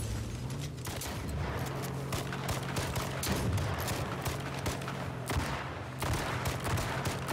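Dense video-game gunfire, rapid overlapping shots and bursts popping continuously at moderate loudness, with no voices heard.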